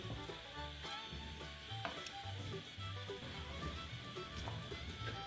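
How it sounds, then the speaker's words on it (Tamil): A Tamil fish curry (meen kuzhambu) boils in a pot with a steady, faint bubbling and crackling simmer. Occasional small pops sound close by. "பாருங்க, நல்லா கொதி வந்துருச்சு இல்லைங்களா?"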